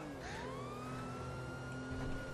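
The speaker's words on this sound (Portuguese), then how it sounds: "Tu não tá vendo aí a sirene da polícia?" Police car siren in the GTA V video game, a wailing tone sweeping up and down continuously at moderate level over a steady background hum.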